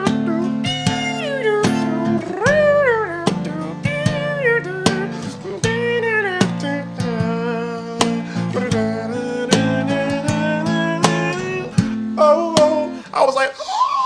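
A voice sings a wavering, melodic horn-like line, mimicking a saxophone with bends and slides, loud and continuous with brief breaths between phrases.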